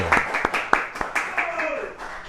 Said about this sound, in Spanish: Los aplausos para recibirlo.